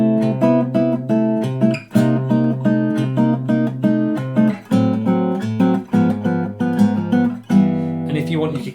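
Jazz guitar comping, moving from a minor 7 to a minor 6 voicing: a series of clear, close strummed chords in a steady rhythm, played alone.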